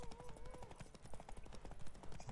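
Horse hooves clip-clop steadily in The Witcher 3, a rapid, even rhythm of close, moderately loud footfalls with a faint tonal game sound early on.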